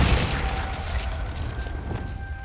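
A Confringo fire spell blasting in the video game Hogwarts Legacy, a loud booming burst with rumbling low end and crackling debris over a continuous game background, no speech.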